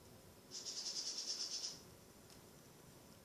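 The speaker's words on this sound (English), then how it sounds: "Sorry about the birds chirping if you can hear them in the background." A single bird or insect gives a rapid, evenly pulsed high chirping trill for about a second, faint and in the background, with no talk over it.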